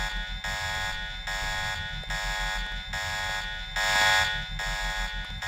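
A video game alarm in Revision rings continuously with a harsh, buzzing electronic tone, pulsing in a steady rhythm of roughly two beats per second, loud and unbroken throughout.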